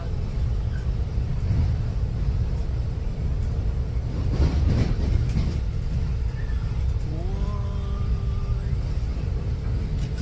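Train interior at Penn Station, New York City, with a steady heavy rumble of rolling wheels and machinery, a rising mechanical whine near the end, and faint distant voices underneath.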